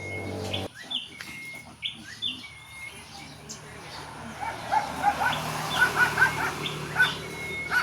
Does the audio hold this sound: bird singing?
yes